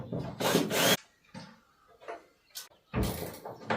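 Bolt being threaded into a wooden batten during a cottage renovation, heard as a few short bursts of scraping, rubbing friction close by, separated by quieter gaps.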